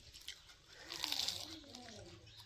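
Someone bites into a sandwich at home, a quiet, close crunch swelling briefly in the middle with faint mouth sounds around it.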